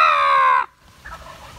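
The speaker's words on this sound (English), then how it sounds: "he gobbled several times" A wild turkey tom gives a single loud, drawn-out call lasting just over half a second near a recently burned patch of woodland, followed by quiet outdoor background.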